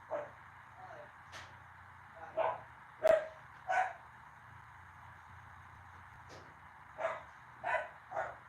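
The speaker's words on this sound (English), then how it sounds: "he's barking at himself" A dog barks indoors in a bedroom, reacting to its own sound, in short separate barks scattered across the stretch, a few clustered, fairly close and clear over a low steady hum.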